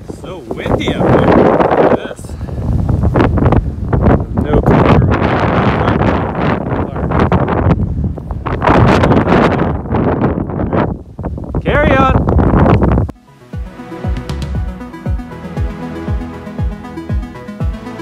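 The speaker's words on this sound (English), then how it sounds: "So windy up here." Strong wind buffets the microphone in loud, roaring gusts at a high lookout in Halifax for most of the stretch, then drops away as quieter plucked music takes over.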